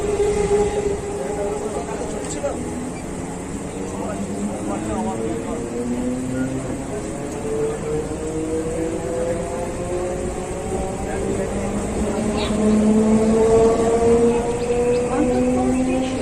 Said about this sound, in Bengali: কিছুক্ষণ দাঁড়ানোর পরে ছেড়ে দিল বলাগড় স্টেশন।